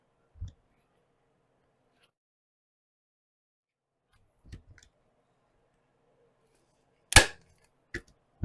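A staple gun fires as fabric is fastened onto a VW Beetle car door panel: a few sharp, isolated snaps spaced seconds apart, one louder than the rest, with near silence between them.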